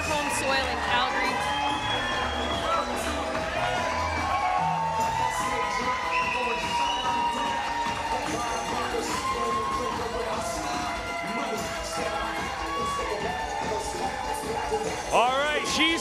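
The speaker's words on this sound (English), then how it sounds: "The crowd's going wild" A crowd at a bobsleigh push event in Calgary cheers, whoops and shouts continuously at a steady high level, with a commentator talking over the din.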